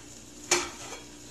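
A lid set onto a cooking pot while chicken lime sinigang simmers, giving one sharp metallic clank that rings briefly and fades, alone in a quiet kitchen.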